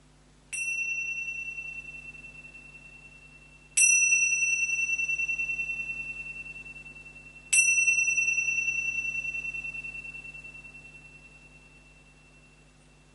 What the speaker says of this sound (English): until the sound of the bells